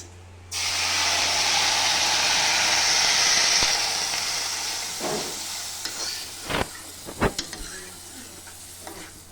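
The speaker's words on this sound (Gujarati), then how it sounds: "હવે સેવ શેકાઈ ગઈ છે હવે નાખશું આમાં દૂધ" Milk is poured into a hot pan of roasted bread sev, setting off a loud burst of hissing sizzle that slowly fades into a few sharp clinks and stirring knocks.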